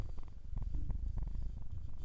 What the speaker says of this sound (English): Here, he's purring. Hear him?